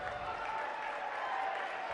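A high school basketball crowd murmurs and stirs restlessly in the gym at a Pine View at Desert Hills region game, a steady broad rumble of voices and scattered noise with no distinct cheer.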